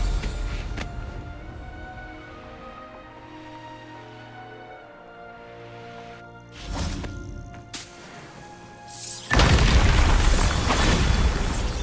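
The Bombarda spell blasts rocks in Hogwarts Legacy: a sustained musical tone gives way to a sharp boom and a crash, followed by a loud, rumbling burst of crumbling debris.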